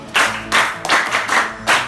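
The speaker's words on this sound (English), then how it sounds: "Very good, clap for him." A school class claps for a student in a classroom, a few short uneven bursts of hand claps, close and fairly loud, separated by brief pauses.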